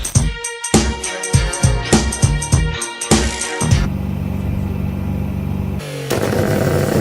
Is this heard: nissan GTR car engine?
yes